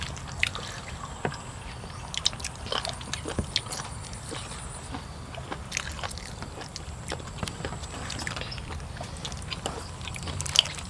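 Close, crunchy chewing of spicy pounded squid, a steady run of small dry crackles and crisp bites at low volume with a little quiet background noise.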